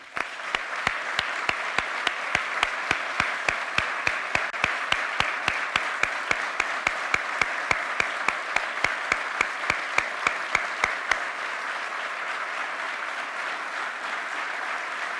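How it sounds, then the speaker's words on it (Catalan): Loud, sustained applause from a large audience at a political gathering, steady and dense for about eleven seconds before tapering off into quieter room tone. "retre'ns un últim i sorollós aplaudiment"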